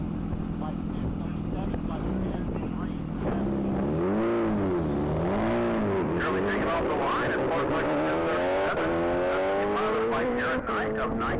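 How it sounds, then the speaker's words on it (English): A 2020 Kawasaki H2 Supercharged motorcycle accelerates hard down a top-speed mile track, its engine note climbing and dipping through gear changes, then winding up in a long rising whine, loud and steady under an announcer's commentary. "That's going to be a 2020 Kawasaki H2 Supercharged."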